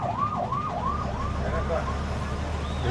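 A highway patrol vehicle's siren sweeps up and down in quick repeated wails, close and clear above steady traffic and engine rumble on the road.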